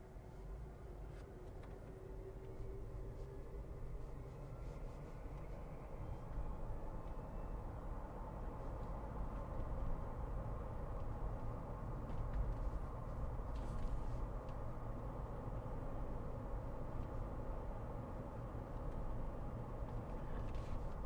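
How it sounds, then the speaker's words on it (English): A 2023 Jeep Wrangler Rubicon 4xe drives in electric-only mode with no gas engine running, producing a steady low rumble of motor and road noise, with faint whine above it and no talk. "you can hear the different noise it makes when it's just using electric"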